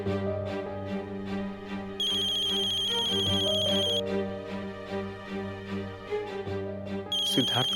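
A bright electronic ringtone trills for about two seconds, pauses, then starts again, over a louder backing music track.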